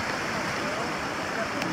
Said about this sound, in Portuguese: E o riacho passando por cima da ponte.